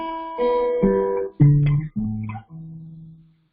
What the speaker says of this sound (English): A normal guitar, the open strings from high to low would sound, if you hit them open